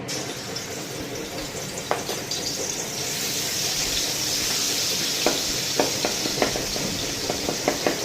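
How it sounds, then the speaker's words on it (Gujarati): Garlic, chili and ginger paste fries in hot oil in a kadai, a continuous loud sizzle with scattered sharp pops and crackles growing more frequent toward the end. "આપણું તેલ આવી ગયું છે એટલે એમાં સૌ પહેલાં આપણે એડ કરી દેવું લસણ ને મરચાં ને આદુની પેસ્ટ"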